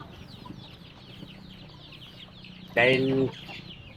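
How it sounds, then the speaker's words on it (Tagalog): Native chickens cluck softly in the background, then one bird lets out a loud, brief squawk near the microphone. "hindi ako nauubusan ng alagang manok"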